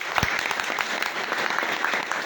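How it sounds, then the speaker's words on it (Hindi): Students at a district magistrate's guidance session break into dense, steady applause, many hands clapping together at an even loudness throughout, with no speech over it. "ताली जो बजा रहे हो ना"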